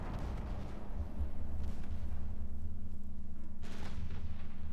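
Heavy naval guns firing armor-piercing shells in the warship game Ultimate Admirals Dreadnoughts: a few deep booms spaced seconds apart over a steady low engine hum, with no voices.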